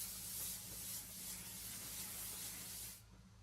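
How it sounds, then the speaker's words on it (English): A steady, close hiss of Bed Head shine spray, an aerosol sprayed onto hair, runs continuously for about three seconds, then stops abruptly. "I'm just going to take some shine spray from Bedhead. So this is in Head Rush. I'm just going to spray that all over."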